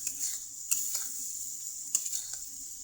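Goat meat dropped into a pot of spice masala as it cooks, giving a steady close sizzle broken by a few sharp stirring scrapes against the pot.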